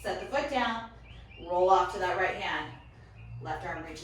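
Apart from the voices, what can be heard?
None of the usual background noises is heard.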